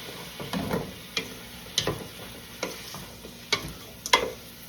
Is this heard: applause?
no